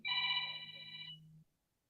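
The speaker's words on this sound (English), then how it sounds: "Phone rang." A phone rings once with a bright electronic ringtone, a steady multi-tone chime lasting about a second that stops abruptly, fairly faint and heard alone with no talk.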